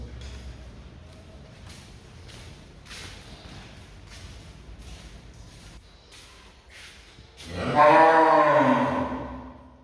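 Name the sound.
cows mooing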